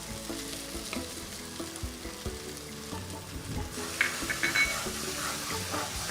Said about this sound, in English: Chilli paste is now frying in the delicious prawn infused oil.